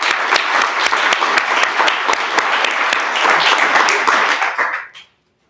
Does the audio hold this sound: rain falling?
no